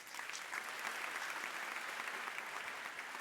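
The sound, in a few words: audience applause for keynote speaker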